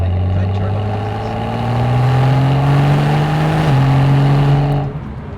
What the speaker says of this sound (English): It makes turbo noises, like good turbo noises.